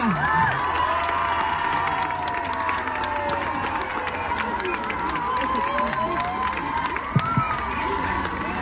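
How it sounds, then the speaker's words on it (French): A crowd at an outdoor rally in support of rape victims cheers and applauds steadily, a dense, sustained wash of clapping and shouts with a few whoops rising above it. "vous pouvez vous applaudir"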